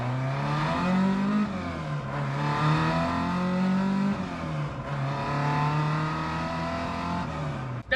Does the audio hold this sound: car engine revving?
yes